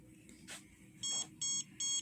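An intense pulsed light wrinkle-reducing face device used on an older man gives three loud, evenly spaced electronic beeps, preceded by a fainter click, in a quiet room.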